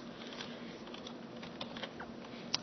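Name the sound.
typing on a computer keyboard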